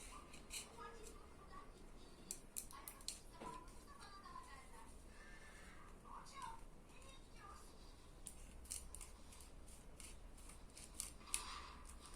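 Small snips of scissors cutting through a plastic drinking straw, soft and close, repeated several times at uneven intervals over a faint background hum.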